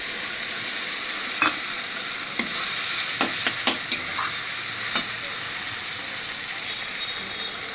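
Paste of ginger, garlic, green chili and tomato hitting hot oil in a pan, sizzling steadily, with a few sharp clicks and scrapes of stirring scattered through, close and alone.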